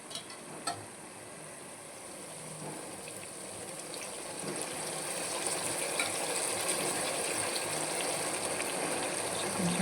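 Hot water poured little by little into a chicken curry, a continuous gushing, filling sound that grows slightly louder and fuller over ten seconds, with a couple of brief clinks at the start.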